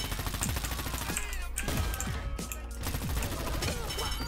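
Hogfur gun firing in the video game Dirty Bomb, rapid bursts of loud automatic shots over dense game action and effects, continuous and close.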